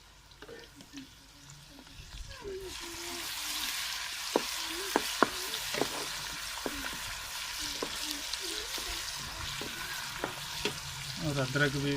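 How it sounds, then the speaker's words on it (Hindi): Onions and garlic frying in a pan for a Pakistani chicken and tinda masala: a steady, hissing sizzle that swells after a quieter start, broken by sharp clinks of stirring against the pan. "ये प्याज देख सकते हैं हल्का हल्का ब्राउन हो गया।"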